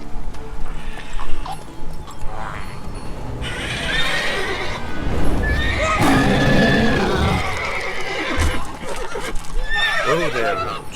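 Roach, a horse in the Witcher 3 video game, gives loud whinnying neighs over clip-clopping hooves, close by, with a narrator's voice and other game sounds running underneath.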